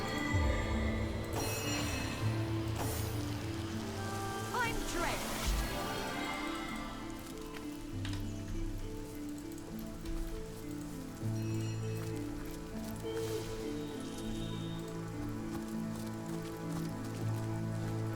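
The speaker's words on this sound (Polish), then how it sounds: "I użyjemy deszczu, żeby to oczywiście zgasić." Rain conjured by a spell in the video game Divinity Original Sin pours steadily in a dense patter under tonal game music, with no talk.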